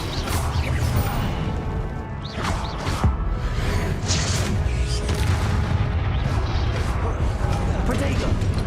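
Expelliarmus spell cast in the Hogwarts Legacy video game, a dense run of booming, whooshing magical impacts with crashes repeating every second or so over a constant loud rumble of combat effects.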